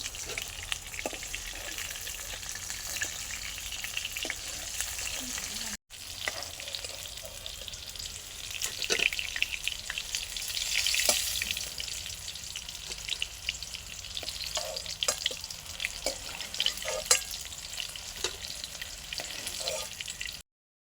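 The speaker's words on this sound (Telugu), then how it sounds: "వంకాయల్ని మంచిగా వేగినాక తీసుకొని ఒక ప్లేట్లో వేసుకోవాలి." Brinjals fry in oil in a pan, a steady close sizzle with occasional louder crackles and spatters, a brief silent gap partway through, no talking.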